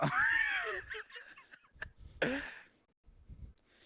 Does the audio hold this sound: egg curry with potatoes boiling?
no